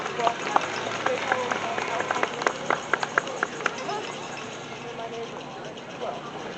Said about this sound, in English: Beautiful horses.